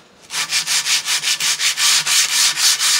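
Sandpaper rubbed back and forth along the edge of a ceramic tile to shape a bullnose contour, about a dozen quick rhythmic gritty strokes, close and loud, with no talking.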